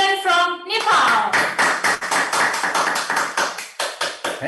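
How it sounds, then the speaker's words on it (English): Applause at a peace festival hall, steady rhythmic group clapping close and loud, following a brief sung or held voice at the start and continuing evenly to the end. "please give another round of applause to Ambassador for Peace couple, Mr. and Mrs. Deepak Maharjan from Nepal"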